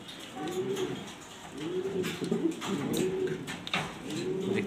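Black Danish pigeons give repeated low, throaty coos in steady rounds, near and fairly loud, with some background loft noise.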